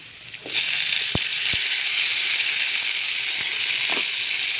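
Chopped tomatoes drop into sautéing onions in a pan for hotel-style vegetable pasta, setting off a loud, steady sizzle that holds evenly for several seconds after a couple of sharp clinks.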